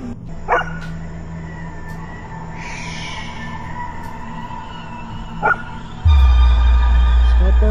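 A dog barks a few times in short sharp bursts, with a steady low hum running underneath and a louder rumble coming in near the end.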